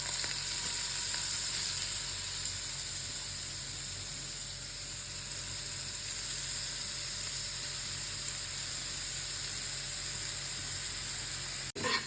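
Grated carrot frying in ghee in a hot pan for carrot halwa, a steady close sizzle and hiss that continues evenly throughout.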